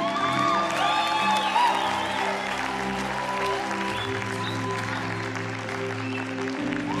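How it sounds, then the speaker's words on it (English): A church congregation applauds people being baptized, steady sustained clapping from a large indoor crowd with a few faint whoops, continuous and fairly loud throughout. "won't you give them a bigger applause?"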